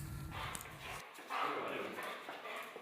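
A 24-month-old Belgian Malinois shepherd dog whimpers and whines faintly, eager to go training, with a low rumble dropping out partway and a brief louder yelp-like burst near the middle.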